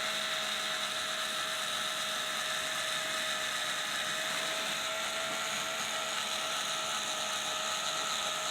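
Power drill boring slowly into red oak with light pressure, giving a steady high-pitched whine that holds evenly throughout with no voices.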